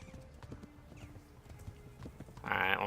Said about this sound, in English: I'm gonna go ahead and start galloping you again